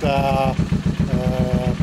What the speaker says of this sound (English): got a bit of engine noise